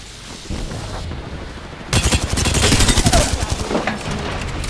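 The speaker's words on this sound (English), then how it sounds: "I'm under fire." Gunfire in the battle royale game Apex Legends: loud rapid bursts of automatic shots in the second half, after a quieter stretch of game ambience.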